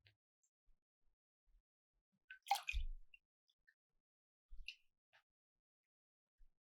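Water is poured from a small cup into a container, heard as a short, quiet splash and trickle with a few faint drips before and after in an otherwise silent room.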